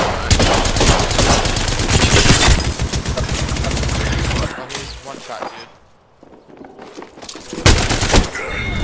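Rapid automatic gunfire in the video game Apex Legends, dense bursts of loud shots for several seconds, a pause with quieter game sounds, then another sharp burst of shots near the end.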